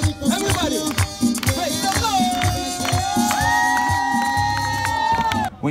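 A crowd cheering and making noise, loud mixed shouts, whoops and children's yells with rising excited voices, close and continuous.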